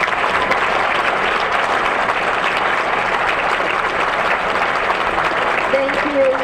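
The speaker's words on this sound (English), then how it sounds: "Let's give them and their parents a nice round of applause." Crowd applause fills a high school gym for senior basketball players and their parents before a boys' game, steady dense clapping throughout at a constant loud level.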